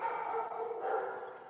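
Dogs at an animal shelter bark and yip continuously, a dense overlapping chorus heard at a moderate distance.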